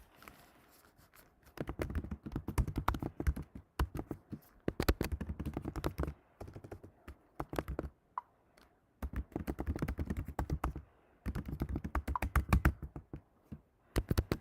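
Rapid typing on a computer keyboard, close and fairly loud, in bursts of quick clattering keystrokes separated by short pauses, with no talking.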